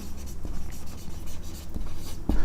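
Pen scratching across paper while math is written out, a soft continuous rubbing with a few faint taps, close and unaccompanied by talk.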